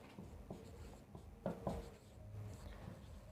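Chalk or a marker scratches and taps on a board during a physics class on electric potential, in short uneven strokes at close range, faint against quiet room noise.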